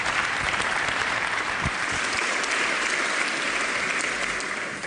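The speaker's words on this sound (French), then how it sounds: "On vous applaudit." Sustained audience applause from a crowd at a national awards event, dense steady clapping filling the whole stretch at even loudness with no talk over it.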